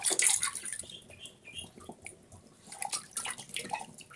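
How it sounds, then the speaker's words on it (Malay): Raw fish being washed by hand in tamarind-and-salt water in a basin, with soft splashing and sloshing pulses that come and go, close by and fairly quiet, without speech. "Dan sekarang kita cucikan ikan kita dengan air asam dan air garam ya"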